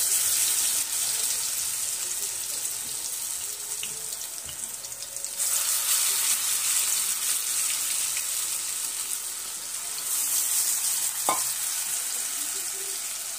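Potato bhaji fritters deep-frying in oil in a Maharashtrian kitchen, a steady close bubbling hiss that dips briefly midway and swells again, with a short clink near the end and no talking.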